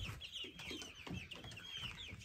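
Egg-laying hens clucking inside their coop on a farm, several soft overlapping clucks and murmurs at a quiet level, fairly close.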